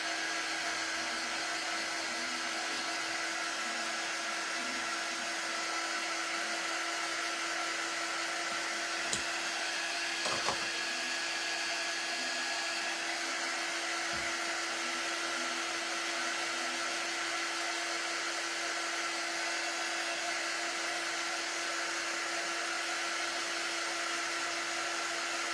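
A hair dryer runs continuously while drying a strawberry cake decoration, a steady loud whirring hum held for the whole stretch, close up, with a brief faint knock partway through and no talking.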